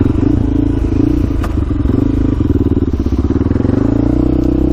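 A Honda 400ex quad with Stage 2 Hotcams runs loud and close, its single-cylinder engine thumping in a fast, even pulse with some mechanical clatter throughout.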